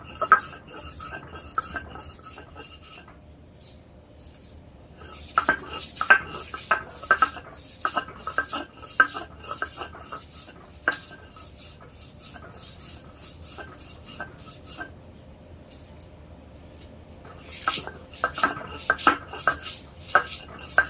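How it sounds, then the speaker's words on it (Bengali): Dried chepa shutki fish, garlic, dried chili and salt pounded together for a jackfruit-seed bharta, giving repeated close knocks and scraping rubs in irregular bursts, with quieter stretches between, no talking. "এখন চাপা, রসুন, শুকনা মরিচ, লবণ দিয়ে আগে বেটে নিব।"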